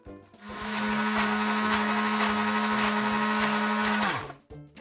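A blender whirs loud and steady for about four seconds as it purées carrot soup, then spins down to a stop.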